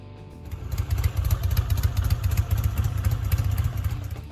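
A Norton Commando 750 motorcycle engine idles nearby with a deep, rhythmic, lumpy throb and some mechanical clatter, steady throughout.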